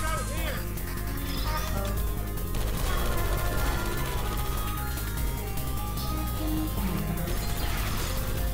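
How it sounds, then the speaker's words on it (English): Bursts of turret gunfire and crashing impacts from the Portal 2 video game crackle through the whole stretch, heard under excited talk from players. "look out for gunfire at this point"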